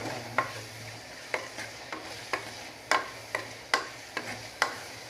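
Tomatoes are sautéed in a pan for a Kerala-style fish curry, with a soft, steady sizzle under regular scraping strokes of a spoon or spatula stirring against the pan.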